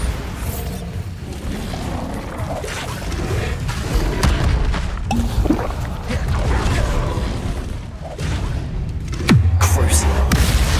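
In the Hogwarts Legacy video game, Bombarda explosion spells burst as dull, heavy booms with whooshes and rumbling impacts, mixed with game noise and a voice, and a deep low thud near the end.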